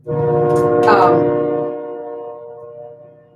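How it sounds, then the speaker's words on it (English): A train passes close by with a loud, sustained horn blast that swells and then slowly fades as it moves away, over low rail rumble. "Excuse the train, guys."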